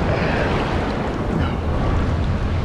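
Ocean waves on the turquoise Caribbean sea at a Cancún beach make a loud, continuous broadband rush of surf with wind buffeting the microphone, heard up close with no talking.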